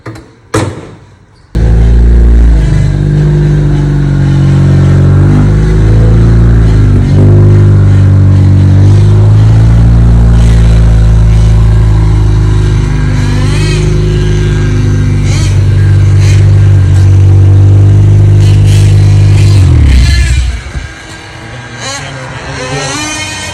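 A Ford Focus RS with a drop-in NX2 turbo roars loudly at full throttle for about twenty seconds, its engine note climbing steadily before it drops off, with voices heard around it.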